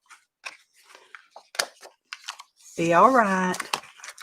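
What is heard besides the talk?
scissors trimming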